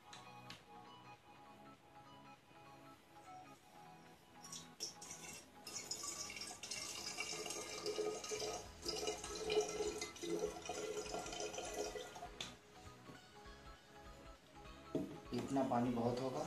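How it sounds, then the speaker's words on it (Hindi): Water pours into a glass bottle with a trickling, filling sound that builds and continues under a person talking. "सबसे पहले हमें इस पानी को इस बॉटल के अंदर डाल लेना होगा।"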